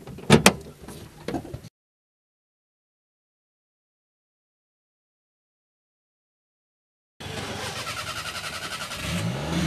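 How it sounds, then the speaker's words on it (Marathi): A car sits in a film scene: short clunks and door knocks come first, then a stretch of silence, then an engine churns in steady, even pulses as it cranks and tries to start. "आरे गाडी स्टार्ट जायना न्हू पाड गेले"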